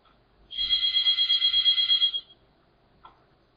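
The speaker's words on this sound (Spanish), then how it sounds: "Perdonad por el teléfono, pero está sonando." A phone rings during a video conference lecture, one bright electronic trill of rapid pulses lasting under two seconds, loud against a quiet room, followed by a faint click.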